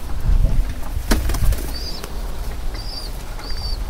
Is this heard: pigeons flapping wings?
yes